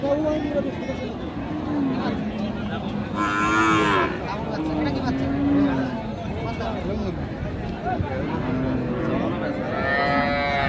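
Cattle, cows and bulls, moo repeatedly at the busy Raniganj cattle market in Bangladesh, several long lowing calls rising over crowd chatter and nearby voices.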